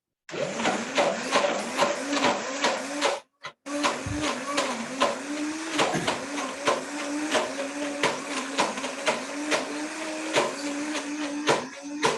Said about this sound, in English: you're aerating everything around the blender and it all turns into a butter nice and evenly